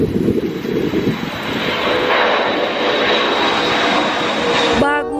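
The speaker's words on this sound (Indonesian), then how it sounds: "Ini Airbus Garuda." A Garuda Indonesia Airbus passenger plane's engines roar loud and steady, a broad sustained rushing drone that cuts off abruptly at the end.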